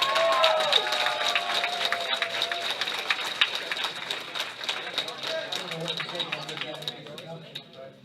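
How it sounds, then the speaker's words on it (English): Applause from an audience at a youth powerlifting nationals event rises into a dense, steady patter of clapping that fades gradually toward the end, with a voice over the start. "Big round of applause for our president, Dr. Larry Bailey"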